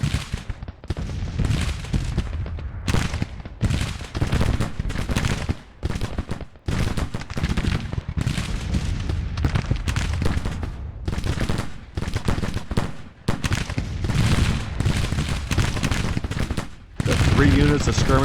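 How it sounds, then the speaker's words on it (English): Civil War skirmishers firing in Grand Tactician, with dense, irregular rifle volleys and crackling musket shots rolling continuously for many seconds, near and loud, broken only by a few brief pauses. "Units of skirmishers firing on Lindsay."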